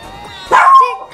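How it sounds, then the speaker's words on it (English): A single short dog bark rings out close and loud against a quiet game soundtrack. "the dog is barking"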